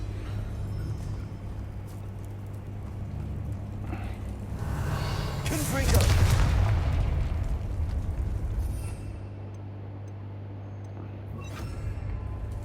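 A Confringo fire spell bursts in the Hogwarts Legacy video game, a loud broadband blast swelling around the middle and fading out over a steady low hum and game ambience.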